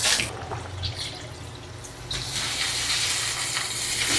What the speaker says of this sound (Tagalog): Ilagay ang 4 na tasang tubig.